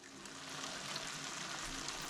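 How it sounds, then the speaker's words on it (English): Spices and harissa sautéing in a tajine, a soft, even sizzle with faint stirring, quiet and continuous with no voices. "Then gently stir in the spices and harissa. Allow to cook for 5 to 7 minutes, stirring gently but regularly."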